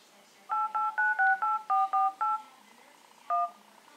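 Samsung Galaxy S4 or Note 2 dialer keypad tones: eight crisp, evenly spaced dual-tone beeps in quick succession, a pause, then one more, clear and close.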